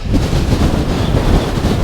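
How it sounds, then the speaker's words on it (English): Strong, steady wind on the hilltop of Ros Castle, Northumberland, buffets the microphone with a loud, continuous low roar and no pauses. "you can see how windy it is"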